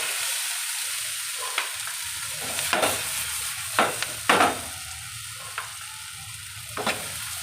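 Tomato chutney ingredients with tamarind fry in a pan, a steady close hiss broken by several sharp scraping stirs of a spoon, with no talk.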